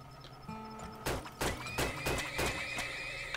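Horses in the video game Turmoil give a sharp whinnying neigh over a tonal game soundscape, with several quick hoof clip-clops following in a steady rhythm.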